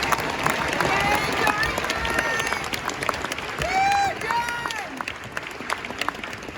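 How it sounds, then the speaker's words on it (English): Crowd at a Fort Benning basic training graduation ceremony gives soldiers and civilians a round of applause, dense clapping with scattered cheers and whistles rising over a few seconds. "please join us in giving these fine soldiers and civilians one more round of applause"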